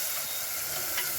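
Green chilies and onions frying in a pan, a dense, even sizzle that holds steady through a brief moment, close and fairly loud with no voices.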